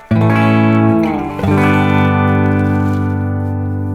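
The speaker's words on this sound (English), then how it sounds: "That's some sweet reverb coming right there." A sustained electric guitar chord on a Telecaster-style ASAT guitar rings out drenched in reverb, restruck once midway, its wash of echo trailing on loudly without any talking.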